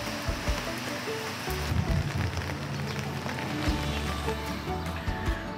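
Steady rain falling outdoors on a flat surface, a constant close patter with scattered heavier drops and low rumbling underneath, no voices.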